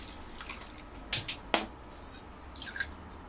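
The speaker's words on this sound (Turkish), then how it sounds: "Evet, süzme işlemini yapıyorum." Bone broth is poured through a kitchen strainer, giving a few soft liquid drips and splashes, two sharp spattering bursts close together followed by quieter trickling.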